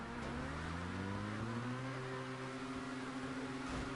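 A race car engine in GTA V Online during a stunt race, revving hard and steadily climbing in pitch as it accelerates downhill, loud and continuous with rising harmonic whine.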